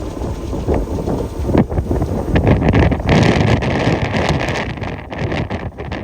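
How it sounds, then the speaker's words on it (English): Strong wind howls and gusts around a boat anchored off Fernandina on a windy day with whitecaps, loud buffeting and roaring in surges throughout with no talking. "The wind is really howling here"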